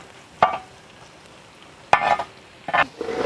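Green chilies and spices frying in oil for a Kerala-style tapioca biryani, with three short, close bursts of sizzling and stirring separated by quiet pauses.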